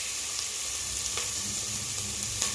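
Carrots and beans frying in a pan while chicken fried rice is cooked, a steady close sizzle with faint stirring clicks, no talking.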